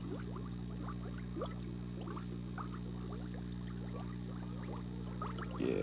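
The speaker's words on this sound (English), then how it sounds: "I decided I'm just gonna pour about a quarter of this in there" Molasses poured slowly into a batch of compost tea, a steady liquid trickle with scattered drips over a constant background hum, close and fairly quiet.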